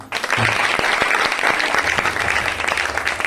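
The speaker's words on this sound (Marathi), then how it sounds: "एकदा जोरदार खरंच या टीम साठी एकदा टाळा" A school gathering audience bursts into loud, steady applause for a student team, dense clapping sustained close and alone throughout without a break.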